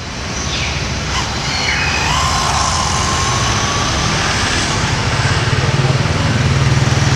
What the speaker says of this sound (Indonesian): Ada motor lewat ini.